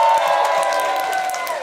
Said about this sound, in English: So please, let's give them another round of applause.